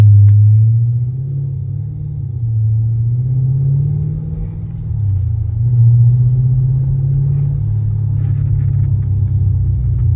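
A Chrysler 300 with a Flowmaster Super 40 muffler and Carven 5-inch tips cruising, its exhaust giving a loud, steady low drone and hum that rises and falls slightly throughout, with no speech.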